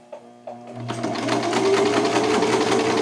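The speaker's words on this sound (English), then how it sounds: "Then I'm going to sew using that marker on my sewing machine." A home sewing machine stitches shirt fabric along a marked line. A few soft clicks come first, then the motor starts and runs in a steady, close, rapid whirring rhythm to the end.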